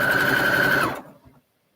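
A domestic sewing machine stitching fabric borders onto a quilt, making a steady close motor whir with a tonal hum that runs for about a second, then winds down and stops.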